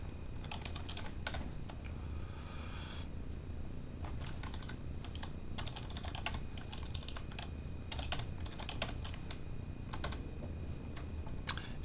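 Steady, quiet clatter of keystrokes as someone types JavaScript code on a computer keyboard, irregular bursts of clicks with brief pauses, close and alone.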